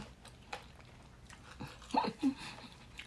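Fried chili peppers being bitten and crunched up close, with a couple of distinct crisp crunches near the middle amid quiet breathing and background noise.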